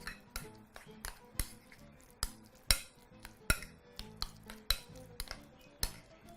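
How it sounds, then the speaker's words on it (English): A spoon or fork clicks and scrapes repeatedly against a bowl while guacamole is mixed, giving a steady series of sharp, close taps at roughly two or three per second. "Begin by mixing your guacamole first."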